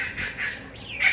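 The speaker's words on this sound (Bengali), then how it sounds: "এখানে একটা পাখি ডাকতেছে" A bird calls outdoors in an open field at midday, a few brief, fairly faint chirping notes.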